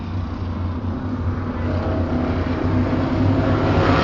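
Modified race cars, including a blue and gold number 73 Pinto and a Camaro, roar around the Devil's Bowl track in a steady, loud engine drone that swells slightly as they pass.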